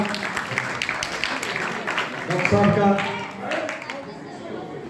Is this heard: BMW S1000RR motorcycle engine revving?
no